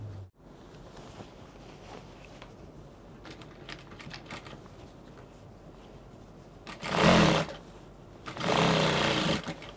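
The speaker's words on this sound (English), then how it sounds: "You start from the center, you sew to the right, and you sew to the left." A sewing machine stitches a V waistline seam in fabric, a rapid rattling whir in short bursts with louder, faster runs near the end and quiet handling noise between.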